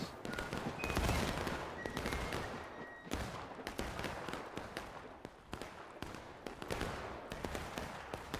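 Rapid bursts of video game gunfire crackle continuously at a distance, with shots overlapping in dense volleys at a low, even volume.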